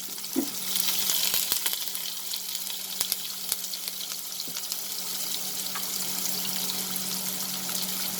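Cumin seeds and garlic crackling in hot oil in a pan, a steady close sizzle with scattered sharp pops and a faint hum underneath, no talking.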